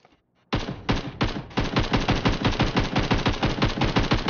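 AKM assault rifle fire in the mobile shooter Game for Peace: a few single shots, then long, loud, rapid automatic bursts at a steady pounding rhythm, close and dominant, with no speech.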